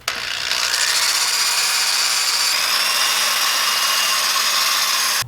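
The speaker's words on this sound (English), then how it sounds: "because this is an iron head, it is okay to use a wire wheel on it" A wire wheel spinning against the gasket surface of an iron cylinder head, a loud, steady, close abrasive whir with a high brushing hiss that holds constant for several seconds.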